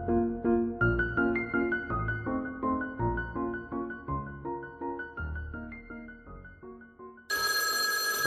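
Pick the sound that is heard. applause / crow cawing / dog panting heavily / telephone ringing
telephone ringing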